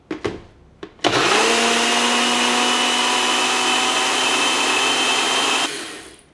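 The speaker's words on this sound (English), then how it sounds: "you can scrape down your edges if you are using a food processor and then keep on blending." A blender or food processor runs steadily for about five seconds, blending keto pancake batter, after a couple of short bursts; loud, close and continuous with a whirring motor tone, then it winds down.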